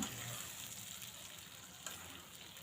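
Potatoes tipped into cooked meat in a hot pan, heard as a soft, low, steady sizzle with a faint crackle partway through and no speech.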